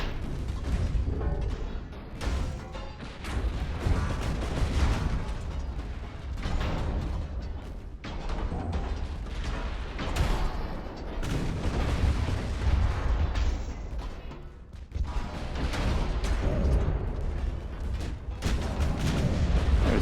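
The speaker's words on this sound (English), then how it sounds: "There's one more salvo left. And it has fired." Heavy naval gun salvos from a battleship in Ultimate Admiral: Dreadnoughts, deep booming blasts repeating through a dense, rumbling battle soundscape with no talk.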